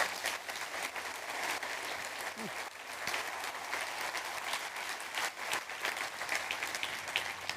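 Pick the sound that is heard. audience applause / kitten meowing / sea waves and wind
audience applause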